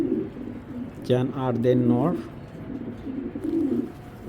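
Belgian racer pigeons coo in a low continuous murmur while someone talks loudly over them in the middle, the birds carrying on softly once he stops.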